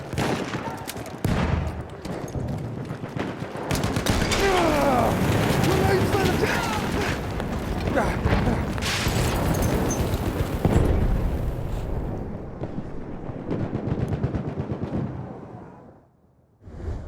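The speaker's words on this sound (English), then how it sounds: "Throwing grenade!" A chaotic multiplayer battle in Battlefield 1 on the Amiens map, with loud booms and explosions that may include a grenade, dense gunfire and shouting soldiers throughout, fading out near the end.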